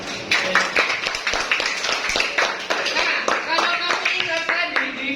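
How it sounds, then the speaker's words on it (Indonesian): Classroom of students clapping hands together during a maths lesson, a dense patter of sharp claps lasting several seconds with children's voices mixed in. "Oke, tepuk tangan dulu."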